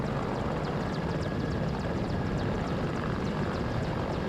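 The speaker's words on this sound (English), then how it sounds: "And if the helicopter would stop doing a wheelie." Military helicopter in the WARNO strategy game, a steady dense rotor and engine roar with rapid blade chop, continuous and loud throughout.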